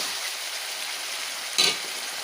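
Onion and tomato sauté with rock salt in a pan for dried shark thokku, a faint, steady frying hiss broken by one brief, louder stirring scrape near the end.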